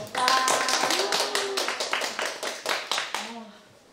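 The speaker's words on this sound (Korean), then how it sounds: "큰 박수로 맞이해 주세요" A roomful of new teachers claps to welcome visiting students from Daegyeong Living Science High School in Seoul's Jung District, crisp rhythmic claps in a regular beat that die away in the last half second.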